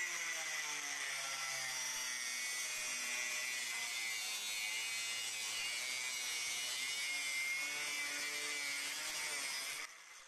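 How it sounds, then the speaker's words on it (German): An Einhell TC AG 125/850 angle grinder cuts through a pipe, giving a loud, steady, high-pitched grinding whine that runs unbroken for about ten seconds before easing off at the end. "So, starten wir nun mit dem Schneiden vom Rohr."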